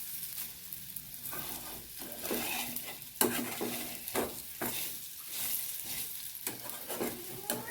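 Moong dal kothimbir vadi shallow frying in a little oil, a steady sizzle with repeated stirring and scraping of the pan, close and clear, with no talking.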